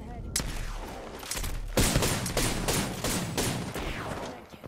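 Video game gunfire in Apex Legends: rapid bursts of shots cracking in a dense, irregular rhythm, growing heavier and closer partway through, with brief quieter gaps and faint voices underneath.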